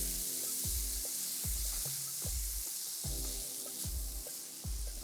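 Chickpeas stirred into a sizzling yellow curry in a hot pan, a steady close frying hiss with regular spoon scrapes and knocks against the pan about every half second, no voices.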